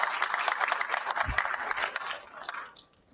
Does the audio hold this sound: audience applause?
yes